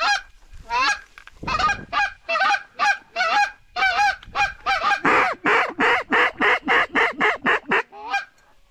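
Cranes calling over water during a duck hunt, a long run of loud honking calls in a steady, pulsing rhythm, close and clear with no talking.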